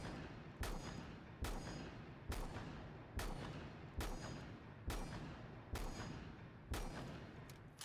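Shotgun blasts in Rainbow Six Siege hit a target at ten meters, nine loud, evenly spaced booms each about a second apart with nothing else around them.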